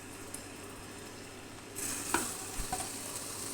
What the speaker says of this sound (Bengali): তেলটা গরম হলে আমার যে মাথাটা গুলো লবণ আর মরিচ দেওয়া ছিল সেটা আমি হালকা ভেজে নেব।